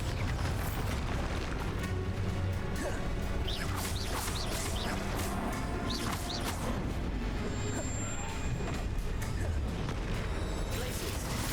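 Bombarda explosion spells going off during combat in Hogwarts Legacy, with booming blasts buried in a dense, continuous wall of loud game effects and music.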